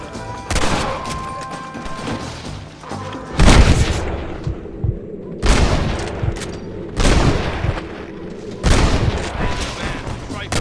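A firing-squad volley of gunshots in the video game Red Dead Redemption: several loud, booming blasts with ringing decay, spaced a second or two apart, and faint voices between them.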